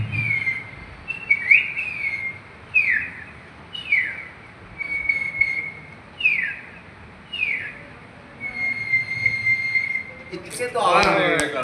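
A bird gives a series of sharp, descending whistled calls, about six in a row at a steady rhythm with short pauses, fairly close and clear over a faint background, ending in a brief burst of noise.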